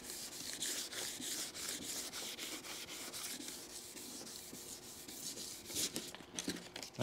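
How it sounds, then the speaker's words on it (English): Wet sandpaper is worked over old, oxidised acrylic truck camper windows in quick, even back-and-forth strokes, a close rhythmic scratchy rasp with no talking. "starting to sand."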